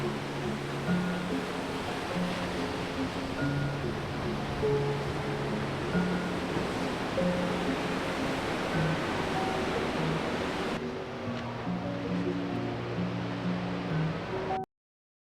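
Ocean waves wash continuously onto a beach ringed by mountains, a broad steady roar of surf heard at moderate distance, with faint tonal hum running underneath.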